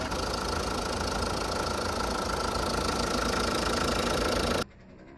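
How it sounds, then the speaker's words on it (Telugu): An MG car's engine running steadily at idle after repair for an engine authentication failure, a dense, even mechanical hum with a faint knock that cuts off abruptly near the end. "సో, అప్పుడైతే ఫైనల్‌గా వెహికల్ అయితే స్టార్ట్ అయిందనమాట."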